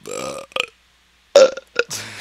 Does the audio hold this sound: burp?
yes